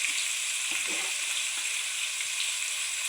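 Mutton sizzling in a pan with turmeric, a steady loud hiss of hot oil frying throughout, with a few faint stirring knocks and no talk.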